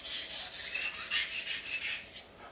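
Slicing knife edge drawn lightly across a diamond sharpening stone to remove the burr, a run of quick, close rasping strokes in a steady rhythm, fading out at the end.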